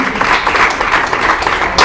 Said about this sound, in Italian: ti facciamo un applauso, dai